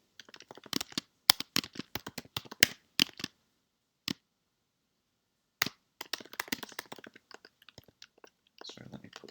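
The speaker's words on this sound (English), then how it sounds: "I'll just type this out" Quick bursts of clicky computer keyboard typing, close and crisp, come in rapid clusters separated by short pauses, with a longer gap before another flurry of keystrokes near the end.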